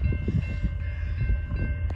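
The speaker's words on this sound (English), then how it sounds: "got a train coming." A CN and BC Rail freight train hauling empty ethanol cars approaches through Brunswick, Maryland. A steady horn chord sounds over a low, pulsing rumble of wheels and engine, close and fairly loud.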